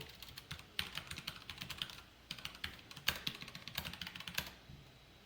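A computer keyboard clatters in quick, uneven bursts of keystrokes while Java code for a text board is typed. The typing is close but quiet, with no talking.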